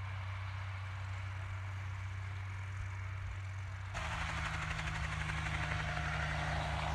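A crop duster helicopter sits on a metal cage atop a truck, its engine and rotor a steady, loud drone that suddenly steps up in pitch and intensity partway through, continuing without talk.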